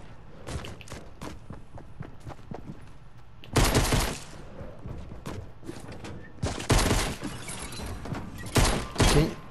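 Gunfire in a multiplayer shooter video game: bursts of rapid shots and sharp single cracks scattered over several seconds, with louder sustained volleys in clusters, mixed with footsteps and thuds and no clear talk.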